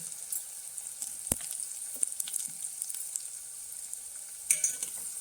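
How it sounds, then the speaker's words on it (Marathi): Finely chopped onion sizzles in oil with ginger and garlic, making a faint, steady hiss broken by a few sharp clicks and light stirring, with no voices. "आलं लसूण चांगलं परतलून घ्यायचं तेलावर त्याच्यानंतर त्यात एक बारीक चिरलेला कांदा घालून घेते"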